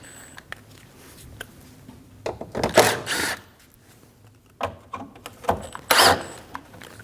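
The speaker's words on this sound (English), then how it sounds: "Using a T25 bit, remove the 3 screws off the front apron" Screws being backed out of the front apron on a 2012-2022 Volkswagen Passat with a T25 bit: bursts of ratcheting and driver clicks with metallic rattles, close and moderately loud, separated by quieter pauses.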